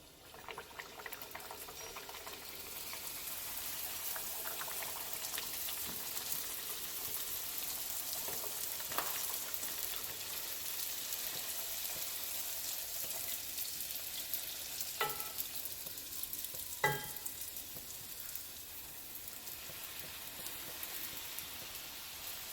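Sopapilla dough frying in hot oil, a steady, dense sizzle and bubbling that runs throughout at moderate level, with a few brief clinks or taps partway through and no talking.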